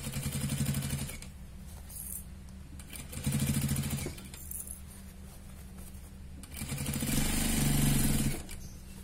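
A sewing machine stitching a fabric basket through thick seams and corners, running in three whirring bursts of rapid needle strokes with quieter pauses between them, heard close up with no talk.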